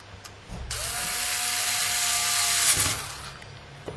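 A single continuous mechanical whir from an electric screwdriver driving screws into a PS2 hard drive enclosure, starting abruptly, holding steady and loud for a little over two seconds, then cutting off.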